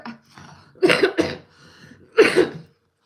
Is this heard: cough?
yes